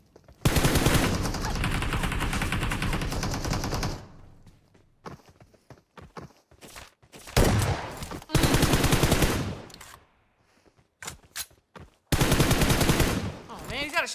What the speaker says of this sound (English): There's something so satisfying about the sound of a shotgun.